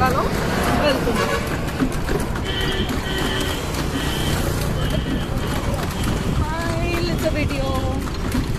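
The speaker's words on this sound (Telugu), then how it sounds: "ఇప్పుడు ఈ టాంగాలో వెళ్తున్నాం" Horse-drawn tonga cart ride in Mysore, with hoof clip-clop and cart rumble under steady street noise, while people talk over it throughout.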